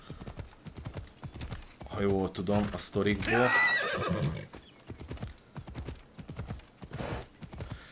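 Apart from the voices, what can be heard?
winged horse (pegasus) hooves in video game Assassin's Creed Odyssey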